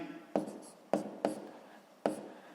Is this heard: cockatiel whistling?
no